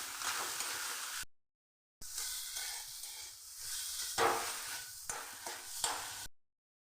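Spiced fish cutlet filling being stirred in a pan: faint sizzling and spatula scrapes in short bursts separated by abrupt silent gaps, no voices.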